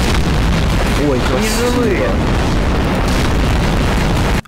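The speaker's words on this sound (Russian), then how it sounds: "Вот это взрыв." A bomb detonates in Garry's Mod, a loud broad boom filling the whole stretch with sustained rumbling noise while a voice speaks briefly over it.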